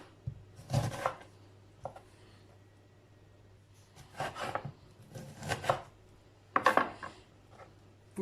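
A knife chops fresh limes on a cutting board in a home kitchen, a few separate bursts of quick chopping strokes with quiet pauses between them, close and fairly soft.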